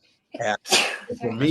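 A single sharp sneeze bursts out close by between bits of a man's speech, with talking resuming right after.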